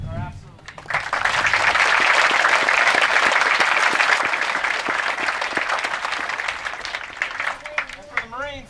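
Sustained applause from a large assembled audience honouring commanders at a Marine Corps command transfer ceremony, swelling after a brief speaking voice and holding loud and steady before tapering into scattered claps.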